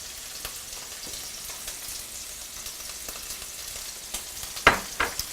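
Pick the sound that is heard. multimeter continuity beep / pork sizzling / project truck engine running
pork sizzling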